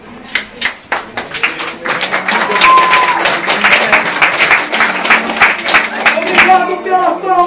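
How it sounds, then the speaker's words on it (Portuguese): Audience at a Folia de Reis folk religious celebration in Arceburgo, Minas Gerais, clapping in a loud, steady burst of applause mixed with crowd voices and a sung or spoken tone, continuing close and full throughout. "Obrigado pelas palmas"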